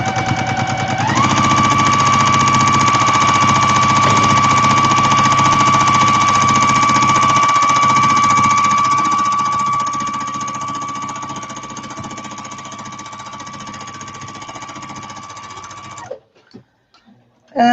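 A sewing machine quilts fabric for a drawstring bag, running loud and steady at high speed for about sixteen seconds with a constant whir, then stops abruptly, leaving brief rustling handling noise.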